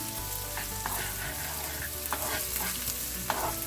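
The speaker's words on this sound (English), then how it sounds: "So I want to saute this for just a minute till the ginger just about cooks." Diced ginger sautés in hot oil for yogurt rice, a steady close sizzle with a few louder stirring scrapes and pops, no talking.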